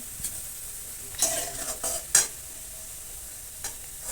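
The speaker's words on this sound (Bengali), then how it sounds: "বেরেস্তাটা কিন্তু একদম খুব ভালো করেই ভাজা হয়ে গেছে এই যে দেখুন এবার নামিয়ে নিচ্ছি" Fried onions for chicken biryani lifted out of hot oil, a few short scraping and clinking stirs over a faint background sizzle, quiet between the bursts.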